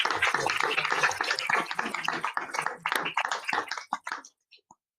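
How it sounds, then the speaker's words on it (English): Applause from an audience at a school board meeting: a dense burst of clapping that thins into scattered claps and fades out to silence within a few seconds. "Can we give Coach one more round of applause and gratitude"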